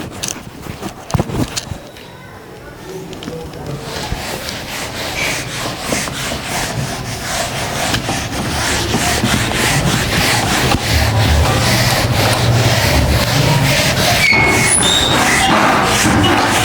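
Steady dry rubbing of a duster wiping writing off a board in a classroom, a continuous scraping swish that grows louder and denser over the span, close to the listener with no talk over it.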